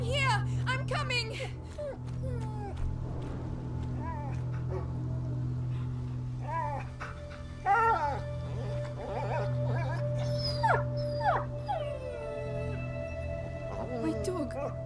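A dog whimpers and howls in A Plague Tale: Innocence, with wavering whines and cries rising over a steady low game hum and ambience for the whole stretch.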